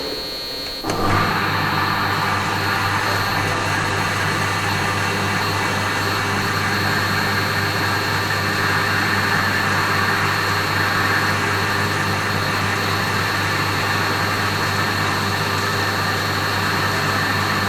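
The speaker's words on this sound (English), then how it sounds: "Now let us start the pump." A reciprocating pump on a laboratory test rig starts up and runs at around 500 rpm, a loud, constant mechanical drone with a steady low hum, continuing without pause and with no talking.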